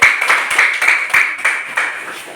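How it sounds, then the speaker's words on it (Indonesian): A fourth-grade classroom of students claps for a student group after a photosynthesis experiment, a steady, rhythmic pulse of hand claps repeating about three times a second, moderately loud and close. "Berikan tepuk tangan untuk kelompok"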